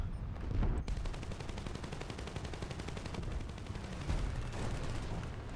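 Aircraft guns fire in War Thunder in rapid, continuous bursts of closely spaced shots, a dense rattling stream that swells in places, with no talk.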